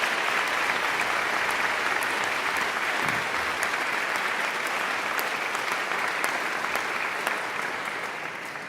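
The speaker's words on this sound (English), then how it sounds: "give them a big round of applause for a" A commencement audience gives a big round of applause for the faculty at a university graduation, with sustained, dense clapping from a large crowd that holds steady and fades slightly at the end.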